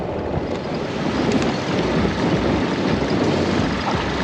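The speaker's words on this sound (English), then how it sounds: "This wind is crazy." Strong wind roars steadily and loudly on a remote Cape York fishing spot, gusting and buffeting with a constant rushing noise.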